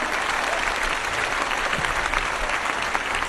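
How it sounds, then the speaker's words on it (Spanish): A congregation applauds the Virgin of Guadalupe during a religious gathering: dense, sustained clapping from a large crowd fills the whole stretch at steady loudness, without talk. "Un aplauso a la Virgen de Guadalupe"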